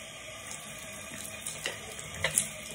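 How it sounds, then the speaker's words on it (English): Warm water running from a bathroom tap while a mouth is rinsed after tooth brushing, a soft steady stream with a few small splashes and gurgles, fairly quiet. "I need to rinse my mouth."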